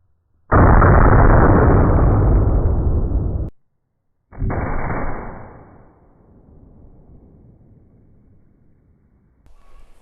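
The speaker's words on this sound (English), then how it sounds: "I don't know that I would suggest firing both barrels at the same time" A .50-70 howdah pistol loaded with round balls fires outdoors, two loud close blasts in quick succession, each with a long rumbling echo that slowly fades into quiet.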